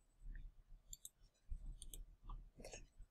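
Several small mouse clicks, a few quick sharp taps spaced across a short quiet stretch while entering grades in a spreadsheet, with faint low room noise underneath.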